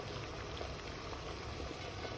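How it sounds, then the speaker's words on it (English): A pot of water boils hard on maximum heat for steaming dumplings, a steady close bubbling and rolling hiss that holds evenly throughout with no voices. "place a pot of water on maximum heat, and when it boils"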